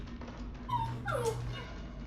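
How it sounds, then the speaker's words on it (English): A pet dog named Nana whines softly indoors, a few thin rising and falling whimpers in the middle of a low steady background hum, fairly close and faint. "My dog is whining again."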